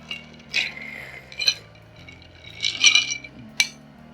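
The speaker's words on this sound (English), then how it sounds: "So you give it a little stir." A spoon stirring an Old Fashioned cocktail in a glass, producing light irregular clinks and tinkles against the glass over a soft low hum.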